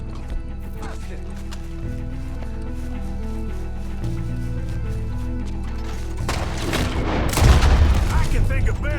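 Gunshots ring out in the Red Dead Redemption 2 video game, a few booming reports rising near the end over steady music and ambient game sound, with a voice talking alongside.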